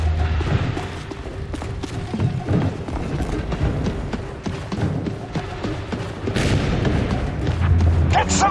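Gunfire and heavy booms pound away at an enemy ship in The Bureau: XCOM Declassified, a dense battle din of thuds and shots with shouted voices mixed in.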